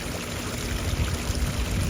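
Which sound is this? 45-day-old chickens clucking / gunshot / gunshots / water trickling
water trickling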